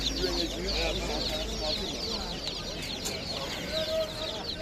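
Chickens cluck and murmur close by in a busy, noisy market, with people talking faintly in the background.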